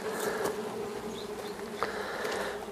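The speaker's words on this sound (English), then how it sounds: "Try to squish a minimal amount of bees." Honey bees buzz at an opened hive with a propolis trap during hive maintenance, a dense, continuous close-up hum with individual bees flying past.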